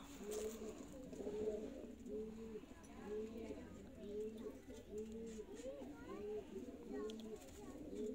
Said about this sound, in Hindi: सियालकोटी बाइयां वाले कबूतर दोस्तों